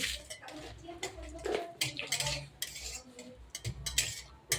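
Stirring a spice tempering in a pan, a spatula scraping and clinking against metal in irregular strokes with light sizzling beneath, close and clear, while someone talks.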